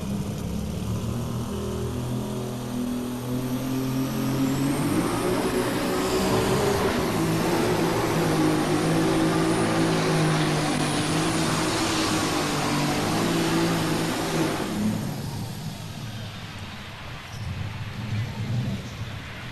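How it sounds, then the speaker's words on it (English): At a national farm machinery show finals, a pulling tractor roars through its run in an arena, a loud sustained engine drone with a rising whine that builds and then tapers off as the pass ends. "this guy here, he's been known to get after this tractor pretty good."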